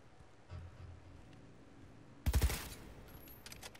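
A quick, loud burst of several gunshots from a weapon in Cyberpunk 2077 Phantom Liberty cracks out after a quiet stretch of low background ambience, then fades into faint scattered sounds.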